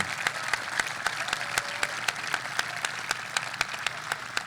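Graduation crowd at George Mason High School applauds teachers and staff, a steady wash of clapping with sharper individual claps standing out rhythmically throughout.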